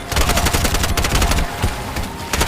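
Rapid automatic gunfire from the video game Bright Memory Infinite rattles continuously at high volume through the whole stretch, dense overlapping shots with a few brief dips, no voices over it.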